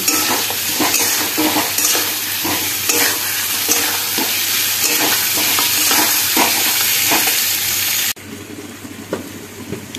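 Goat liver, fat and trotters sautéing with potatoes in a pan, giving a loud continuous sizzle with repeated stirring scrapes, then dropping suddenly to a quieter simmer near the end.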